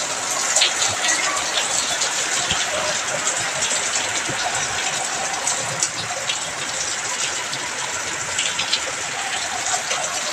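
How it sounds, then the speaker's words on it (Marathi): Heavy monsoon rain pours outside a house facing cloud-covered hills near a highway and the Konkan railway line, making a dense, steady hiss that holds evenly loud for the whole stretch with no pauses. "तर जोरात पाऊस पडतोय एकदम"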